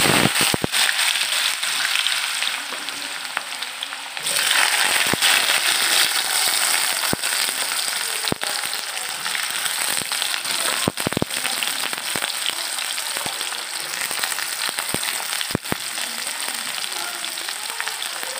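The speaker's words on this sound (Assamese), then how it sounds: "এতিয়া গৰম হৈছে, মই ইয়াতে দি দিম এতিয়া আলুখিনি, কাটি থোৱা আলু।" Cut potatoes fry in hot oil, a dense, loud, continuous sizzle like heavy rain, dotted with sharp crackling pops throughout, close up with no talking.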